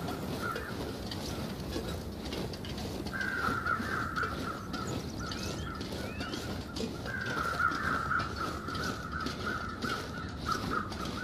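Repeated harsh caws and squawking bird calls in the video game The Long Dark: Wintermute, mid-distance, over a steady background hiss, recurring in drawn-out bursts throughout.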